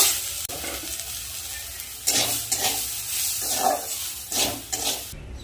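Dal lentils fry in hot oil in a pan with a soft hiss, while a spoon stirs and scrapes through them in several short strokes, close by and fairly loud.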